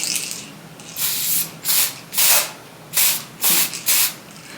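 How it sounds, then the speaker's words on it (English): Tinted lace spray misted from a distance onto the lace of an old wig, in six loud bursts of hiss separated by short pauses, close and without speech. "And I'm gonna spray a little along the lace part."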